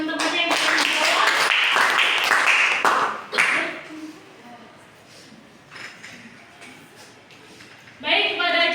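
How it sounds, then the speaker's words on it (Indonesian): A classroom of students claps briefly for classmates who answered, with a dense burst of clapping near the start that fades out, then more clapping near the end, mixed with voices. "Beri tepuk tangan untuk teman-temannya yang sudah menjawab"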